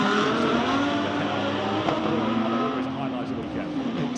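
GT race cars at the Macau Grand Prix FIA GT World Cup roar past in a steady, loud engine drone, with talk over the noise throughout.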